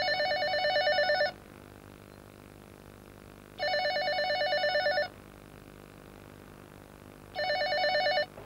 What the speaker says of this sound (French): réponds au téléphone. Pourquoi elle ne décroche pas?